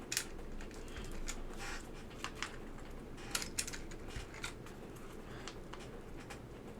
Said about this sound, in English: Putting all these keycaps on.